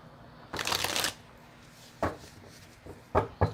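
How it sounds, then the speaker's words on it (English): Tarot cards from the Lunar Soul deck being shuffled and pulled, a long riffling burst followed by a few short, crisp card snaps, close by with no talk. "Let's pull some cards on these guys."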